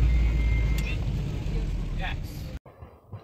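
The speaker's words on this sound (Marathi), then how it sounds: "ह्या ज्या गाड्या चाललेल्या आहेत" Cars travel along a narrow, winding mountain road near Dalhousie. A steady engine and road rumble plays under a voice, then cuts off abruptly near the end.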